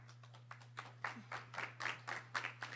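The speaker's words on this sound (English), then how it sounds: "Clapping already." Scattered clapping from an audience at a discussion panel, faint irregular claps from a few people picking up briefly, heard over a steady low hum.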